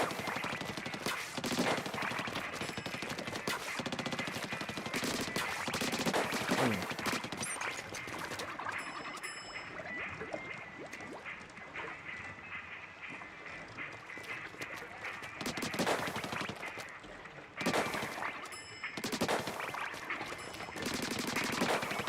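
Rapid weapon fire from dualies in the Splatoon Raiders video game, quick shots repeating in dense streams with short pauses, loud against a busy background of game effects.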